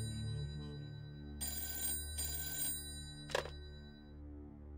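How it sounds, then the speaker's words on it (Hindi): A telephone bell rings in two long bursts followed by a short third ring, loud and clear over a low steady background hum in a home setting. "विशाखा का फोन होवे को।"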